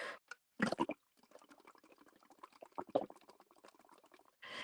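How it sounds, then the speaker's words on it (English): Bubbles being blown through a straw into colored liquid for a mixed media painting technique, close and soft, with short gurgling bursts separated by quiet gaps. "So I'm going to blow some bubbles."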